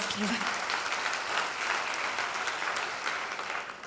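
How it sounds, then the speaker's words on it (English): An audience applauds during a cruise industry keynote in Malaga, a broad, even clatter of many hands that carries steadily for a few seconds and begins to fade near the end, with a brief voice at the start. "Yes, we can applaud this great achievement."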